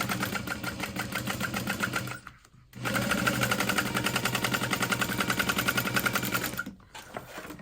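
A sewing machine stitches fabric in steady, rapid mechanical runs, pausing briefly twice as the needle is held down and the fabric pivots, then carrying on, loud and close with no talking.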